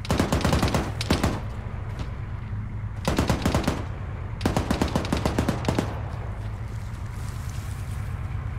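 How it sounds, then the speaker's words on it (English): Heavy machine gun firing in a military video game, heard as rapid bursts of loud, sharp shots, three distinct volleys of about a second each separated by pauses, over a steady low background rumble. "There's an HMG shooting."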